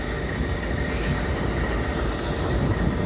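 A southbound train passes on railroad tracks near a crossing, a loud continuous rumble of wheels and cars rolling by without a break.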